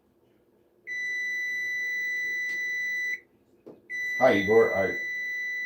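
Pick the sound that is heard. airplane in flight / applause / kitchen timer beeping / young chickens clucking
kitchen timer beeping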